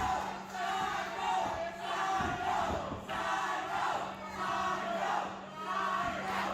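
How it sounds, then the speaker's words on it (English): A wrestling arena crowd chants in steady repeated waves for a wrestler at a Championship One Wrestling show, a loud rhythmic mass of voices filling the hall with no commentary on top. "This is the first time the crowd has really reacted to Adrian Ace, calling him the Psycho and chanting for him."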